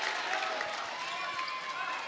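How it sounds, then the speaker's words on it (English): Crowd at a high school boys' basketball playoff game applauds in a short burst of steady clapping and cheering, with a commentator's voice running over it. "Crowd applauding the defense."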